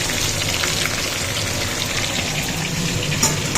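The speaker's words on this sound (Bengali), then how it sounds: "এই দেখো মাথাটা ভাজা হচ্ছে মাছের মাথা কাতলা মাছের মাথা এখানে" A katla fish head sizzles and spatters steadily in hot oil in a pan, a dense crackling hiss with occasional louder pops, close by and with no talking.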